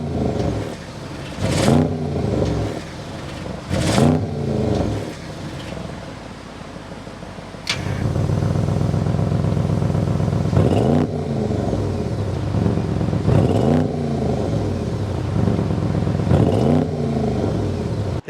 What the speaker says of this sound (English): We need to go inside, start it up, so you can hear that exhaust note